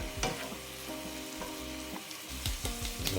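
Garlic and lime prawns sizzle steadily in a hot pan, with a few sharp clacks and scrapes as they are turned over one by one; close and continuous, no talking.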